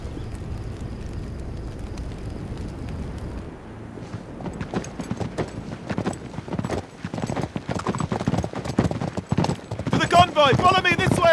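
Galloping horses in Uncharted 3 pound out steady hoofbeats that grow louder and busier, with people talking over the rhythmic clopping.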